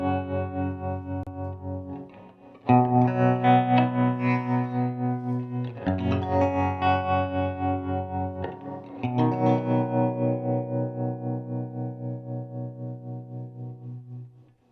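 An electric guitar played through a Bias Wiggle tremolo pedal at slow speed rings out in three sustained chords, each pulsing in a steady, even volume throb as it decays.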